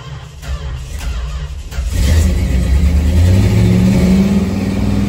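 Soon after a cold start, a classic Mopar V8, the engine of a Challenger, idles roughly, then revs up around the two-second mark into a loud, sustained rising roar that holds high, close to the microphone.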